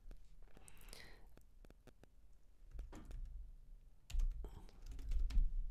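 A file name being typed on a computer keyboard: scattered, quiet keystroke clicks in short bursts over a low background rumble, with no talking.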